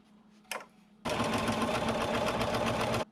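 A sewing machine free-motion quilting fabric starts up after a short knock and runs in a fast, steady, loud whirring hum for about two seconds, then stops.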